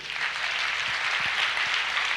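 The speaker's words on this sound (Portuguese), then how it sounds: "Pode aplaudir o Senhor." Steady, hissy applause from a church congregation during a sermon, continuous and fairly even for about two seconds, with no talk over it.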